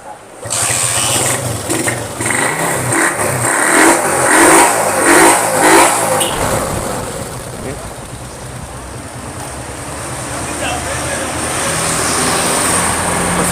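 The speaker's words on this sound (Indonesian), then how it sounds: "Mesinnya enak banget, renyah." An old Honda CB motorcycle's original engine revs up loudly and close by in the first half, then settles back to a steady, rough idle that carries on to the end.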